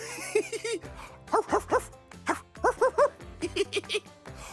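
Voices imitate a dog, giving playful barks in quick bursts of two and three with short pauses between them.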